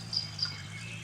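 Birdsong in the Gold Rush video game's Pine Valley: two brief, high chirps stand out over a steady low ambient hum, with no talking.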